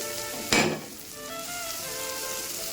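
Spice masala with green chilli frying in oil in a pan, a steady close sizzle throughout, with one sharp burst of hissing and stirring near the start before it settles back to a constant crackle.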